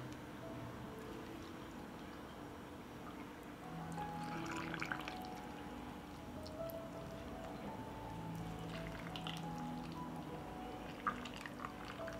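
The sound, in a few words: water poured into glass jars for pickling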